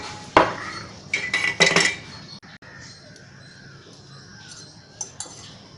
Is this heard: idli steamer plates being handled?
yes